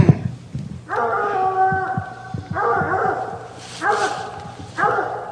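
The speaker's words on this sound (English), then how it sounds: "that's him barking probably" A hunting dog bays in long, drawn-out howling barks during a UKC coonhound Tournament of Champions hunt, with several sustained bawls at a moderate distance and people talking nearby.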